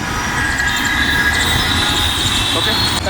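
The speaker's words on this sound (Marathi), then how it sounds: "मेट्रो बघा" A metro train rolls past near a city garden in Pune, its wheels squealing in high sustained tones over a loud rumbling rush, close and continuous, with faint voices underneath.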